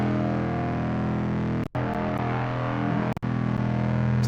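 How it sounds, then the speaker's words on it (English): Droning electric guitar holding a low E through a ring modulator and distortion, a thick, sustained buzzing tone with layered harmonics that plays continuously and loud, cut by two brief dropouts. "I just played a couple of droning guitar lines."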